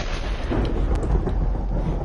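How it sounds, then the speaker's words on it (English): Thunder from a nearby lightning strike outside: a deep, loud rumble that rolls on steadily for about two seconds with no voices over it. "did lightning seriously just strike outside my"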